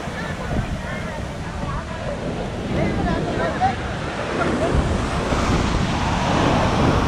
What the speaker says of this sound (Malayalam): നല്ല കടൽക്ഷോഭമൊക്കെ ഉള്ള സമയമാണ്